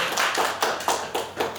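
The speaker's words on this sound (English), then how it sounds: "please give them a round of applause" Audience applause at a Kelowna Fan Xpo press conference: a brief patch of clapping with a few distinct, evenly spaced loud claps standing out, fairly close.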